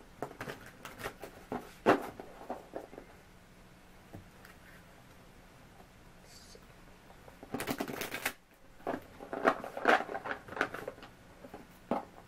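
Tarot cards being shuffled in close, papery riffling bursts, with quiet pauses between handfuls and a longer flurry near the end.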